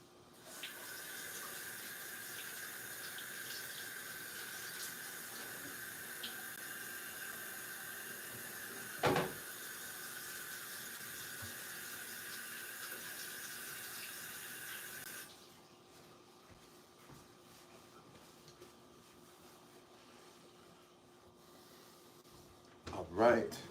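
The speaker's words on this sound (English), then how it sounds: "I'm going to go wash my hands" A tap running steadily into a sink for hand washing, a continuous close hiss of water that stops partway through, with a cupboard or door knock in the middle and quiet clatter near the end.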